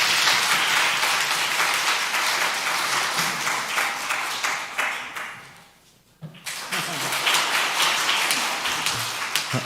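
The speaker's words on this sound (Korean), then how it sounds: "박수 부탁드립니다." A church congregation claps loudly and steadily, briefly dies down to near quiet, then bursts back into full applause.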